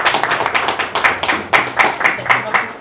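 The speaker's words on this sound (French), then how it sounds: "Bravo Baki, on fait l'applaudissement." A small crowd at a press event applauds Baki Chamsoudinov as the new champion, with sparse, uneven hand claps in a loose rhythm, close and fairly loud, with faint voices mixed in.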